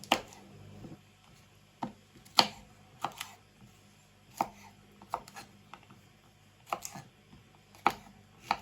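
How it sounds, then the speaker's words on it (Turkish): A knife chops green beans sharply on a cutting board in irregular single strikes, close and crisp, with quiet pauses between cuts. "Şimdi fasulyelerimizi şöyle şu büyüklükte doğrayacağım."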